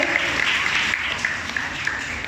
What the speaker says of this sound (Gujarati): એ બધા પોતાની માટે જોરદાર તાળીઓ વગાડી લે